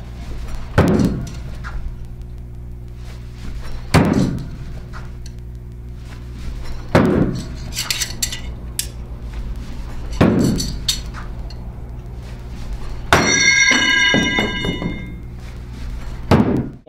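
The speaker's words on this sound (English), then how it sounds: "that's how you throw knives" Knives thrown one after another into a target during a combat knife-throwing demonstration, each landing as a sharp thunk at roughly three-second intervals, five impacts in all, with a brighter metallic ring near the end over a steady low hum.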